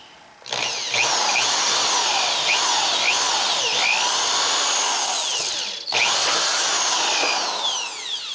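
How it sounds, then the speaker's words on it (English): A power drill whines loudly and steadily as it bores a hole into the handle of an ice safety tool, its pitch wavering under load, with a brief pause before it resumes. "Now let's drill a hole."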